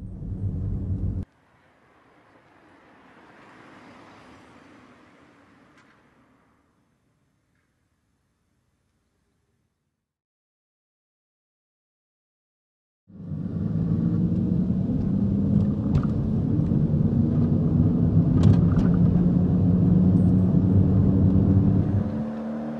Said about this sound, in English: we've generated an artificial engine noise that is played out through the front of the vehicle to give warnings to pedestrians that the car is approaching